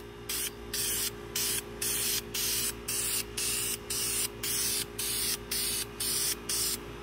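A Cadillac 472 intake manifold gets a light first coat of spray paint in about a dozen short, evenly spaced hissing bursts, close and alone.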